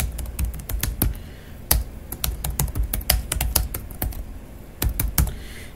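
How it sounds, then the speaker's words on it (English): Rapid, uneven clicks of keys being typed on a computer keyboard, close and fairly quiet, with short bursts and brief pauses. "I'm just going to type,"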